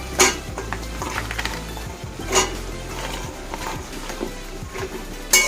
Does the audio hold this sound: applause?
no